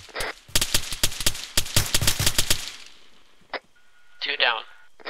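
Rapid gunfire from an Arma 3 firefight, a dense run of sharp shots over about two and a half seconds, then a single later crack and a brief radio-like burst near the end.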